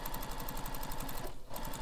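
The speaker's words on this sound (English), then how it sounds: "So again, sewing this with the seam allowance given in the pattern." A sewing machine runs a bag seam at the allowance given in the pattern, a close, fast rhythmic chatter that continues steadily with one brief dip near the end.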